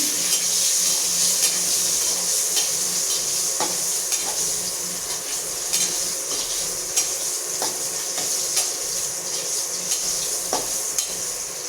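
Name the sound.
eggs frying in a pan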